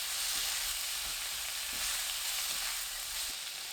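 Green onion and two tablespoons of minced garlic stir-fry in two tablespoons of cooking oil, giving a steady, hissing sizzle with a few soft stirring bumps and no talk.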